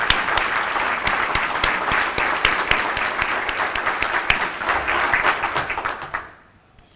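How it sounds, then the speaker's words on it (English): An audience at a city State of the City address gives a round of applause for municipal staff, loud, dense clapping with sharp individual claps standing out, which fades away in the final second as a voice begins. "please give them another round of applause"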